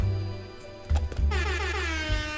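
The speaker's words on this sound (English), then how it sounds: "Air horn, subtle." A Fortnite air horn emote blares in several loud, sustained honks with short breaks between them, standing alone with no talking.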